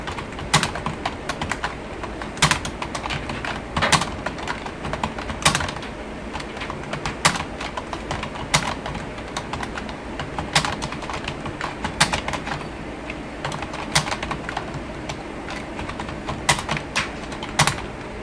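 Steady typing on a computer keyboard, close and crisp, with irregular bursts of key clicks over about eighteen seconds and no talking.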